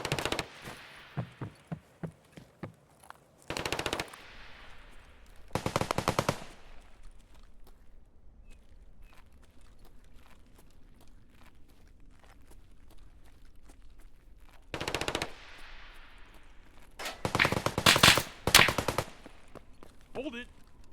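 Several bursts of automatic gunfire ring out in Escape from Tarkov, from a rattling volley at the start to loud rapid strings in the middle and near the end, with quieter pops and faint footsteps between them.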